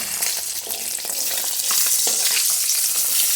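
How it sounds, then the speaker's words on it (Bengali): Chopped onion and chili with salt and turmeric sizzle steadily in hot oil in a home kitchen pan for an egg bhaji, a loud continuous crackle with a few stirring scrapes and no voices. "শুধু পেঁয়াজ কুচি আর লঙ্কা কুচি নুন হলুদ শুধু ভাজি করবো"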